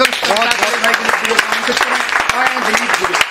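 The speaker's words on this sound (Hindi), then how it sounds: "मैं चाहता हूँ ज़ोरदार तालियां बजाकर उन्हें आमंत्रित किया जाए" Applause from a live audience at a Hindi comedy and poetry stage show, steady and fairly loud for a few seconds, with a voice speaking over the clapping.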